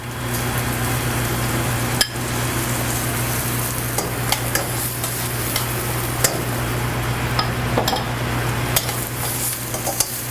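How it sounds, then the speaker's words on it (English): Steady frying sizzle from onions sautéing in a hot pan, with a low constant hum underneath and occasional light clinks and scrapes of a utensil stirring. "the reason you saute your onions so that they release all that sugar"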